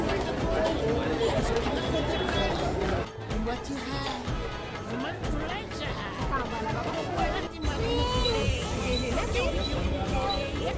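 A crowd mills about on a busy suburban train station platform, with steady babble and footsteps close by and a person speaking over the noise throughout.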